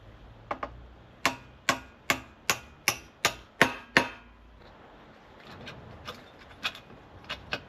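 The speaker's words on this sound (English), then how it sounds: "We'll bash it with a hammer and get it out." A hammer bashes a stuck pin out of a scrap motorbike part: a quick run of about a dozen sharp metallic strikes in steady rhythm, close and loud, then a few fainter, scattered taps.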